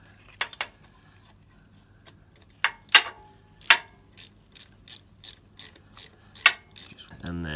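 A hand ratchet removes gearbox bolts on a Renault Master 2.3 dCi van. It gives a series of crisp, evenly spaced clicks, loud and close, with a few separate metallic knocks before them.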